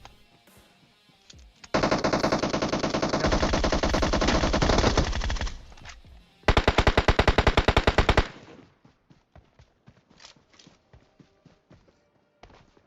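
Rapid automatic-weapon bursts from AWM and Kar98 sniper rifles in the PUBG Mobile battle royale game, with a long sustained volley followed by a second dense burst, then scattered lighter shots and footsteps-like clicks.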